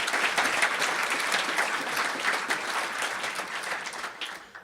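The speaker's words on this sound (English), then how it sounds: "give everyone in the room a round of applause" A room full of guests at a Celebration of Scholars event claps warmly, steady applause that thins and fades out after about four seconds.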